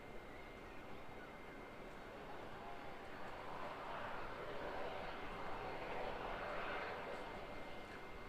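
An RNZAF C-130 Hercules turboprop arriving at Auckland Airport, a steady, moderately distant engine roar that swells slightly midway and holds through the whole stretch, with no voices over it.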